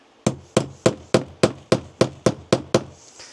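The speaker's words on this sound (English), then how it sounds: "So let's get this hole punched in here." Nine evenly spaced sharp blows of a punch being struck through leather on a beginner shoemaking build, making a hole for a shoe rivet, loud and close with no talk.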